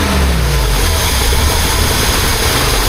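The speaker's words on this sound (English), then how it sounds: "when you rev it, it runs nice and smooth" A BMW 2002 engine that idles roughly with a slight miss gives a loud, steady low rumble and a whooshing roar as its revs settle at close range, with no talk.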